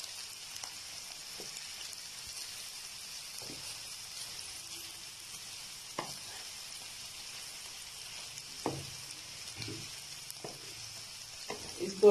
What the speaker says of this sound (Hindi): इनको अच्छे से भूनना है कलर चेंज होने तक, बल्कि गोल्डन हल्के हल्के हो जाएंगे